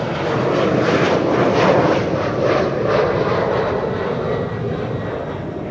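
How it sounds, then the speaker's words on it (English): An Airbus A350 from Vietnam landing at Amsterdam Schiphol, crabbing slightly in a crosswind, with a loud, steady roar of jet engines that holds strong, then eases slightly as the aircraft passes. "A350, slightly crabbing, landing on center."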